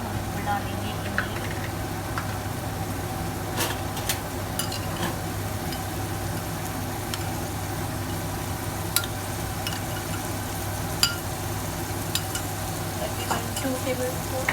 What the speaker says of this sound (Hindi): मसाले को थोड़ा सा पकाएंगे और जब तक ये टमाटर सॉफ्ट ना हो जाए